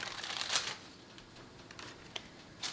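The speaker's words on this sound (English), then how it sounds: "Just peeling up the parchment and peeking underneath" Parchment paper is peeled up from flaky pastry dough, giving soft crinkling rustles with a louder crackle early on and a few brief crisp ticks afterward, close and quiet.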